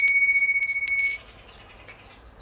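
An old silver bell rings close and bright, with sustained ringing tones and a couple of shakes before it fades, followed by a faint later tap.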